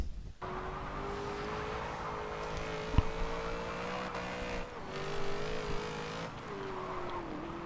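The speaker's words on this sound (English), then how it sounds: "But still, this is a V8 Datsun. It's not entirely easy to control." V8-powered Datsun race car driving hard on a track, its engine droning loud and steady with pitch rising and dipping through gear changes and corners, a sharp knock near the middle, no talking.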